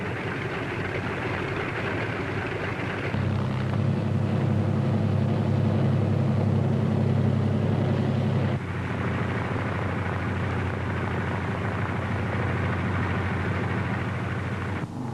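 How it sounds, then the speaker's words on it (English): Radial piston engines of World War II C-47 transport aircraft taxiing into position for takeoff, a steady loud droning rumble that deepens and swells midway before easing back, with no voices over it. "other C-47s move into position for their takeoff at the head of the runway"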